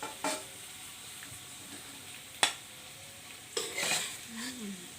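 Sautéed winged beans stirred in a pan: soft frying sizzle with a few sharp scraping clinks of the spatula against the pan, close and fairly quiet.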